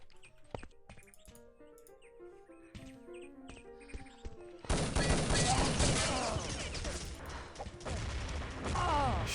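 A competitive team shooter match starts with sparse clicks and tones, then breaks into a dense, loud barrage of overlapping gunfire and blasts that keeps going to the end.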